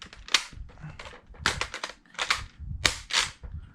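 A Dart Zone Max Outlaw dart blaster is reloaded by hand, giving a close, quiet series of sharp plastic clicks and snaps in uneven bursts.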